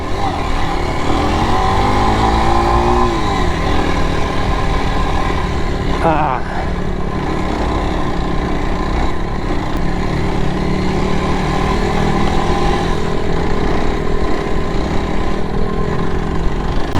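Motorcycle engines droning steadily on a night ride home from an enduro trail, some bikes without lights, with a brief rev and shifting engine tones under a constant roar.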